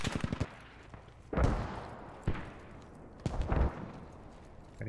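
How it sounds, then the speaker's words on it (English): A PKP-Pecheneg machine gun firing in Squad during a hillside firefight, several loud bursts of automatic fire spaced about a second apart with echoing tails, plus a quick rattle at the start. "God, I love the machine gun when it works."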